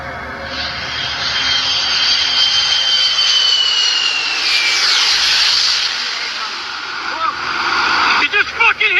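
A jet airplane roars overhead as it flies into a building during the September 11 attacks, a loud, rising engine rush with hissing that swells and fades. Shouting voices break in near the end.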